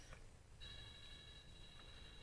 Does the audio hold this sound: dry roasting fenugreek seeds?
no